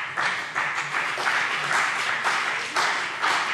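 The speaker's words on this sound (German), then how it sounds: "Applaus." Members of the Hessian state parliament in Germany applaud in a plenary session. The clapping is continuous and fairly loud, filling the chamber, and it swells in soft pulses throughout.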